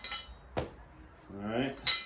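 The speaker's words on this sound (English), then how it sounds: "And you just unscrew it all the way. And off with the blade." A blade comes off a John Deere Z335E zero-turn mower with a few sharp metallic clinks and scrapes, close by and loud in short bursts, with brief quiet between them.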